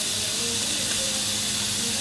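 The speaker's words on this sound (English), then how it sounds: "Now add the baby corns, the red bell pepper, saute it nicely for a minute." Baby corn and red bell pepper sauté in a hot pan, giving a steady close sizzling hiss that runs unbroken throughout.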